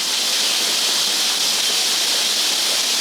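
A waterfall pours in a steady, unbroken hiss of falling water, loud and close throughout with no pauses or other sounds.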